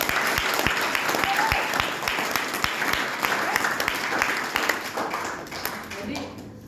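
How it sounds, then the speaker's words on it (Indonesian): Sustained audience applause, dense and steady with sharp individual claps standing out, fading slightly toward the end with a murmur of voices underneath. "Tepuk tangan dong buat dia."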